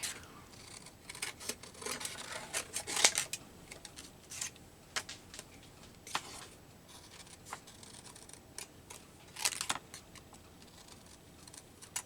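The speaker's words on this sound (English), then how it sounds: "Okay, I'm having trouble cutting this thick paper." Scissors snipping through thick paper, a series of sharp irregular cutting crunches and rustles separated by quiet pauses, close and fairly soft with no talking.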